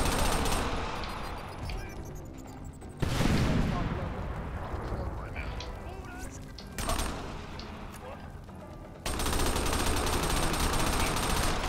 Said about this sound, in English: It's like we're playing dodgeball here with grenades.